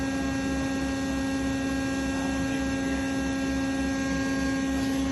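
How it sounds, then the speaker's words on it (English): A 300 kVA flash welder switched on, giving a steady, loud electrical hum with a strong single tone and constant level throughout, with no other sounds or voices. "I'm going to turn on the weld."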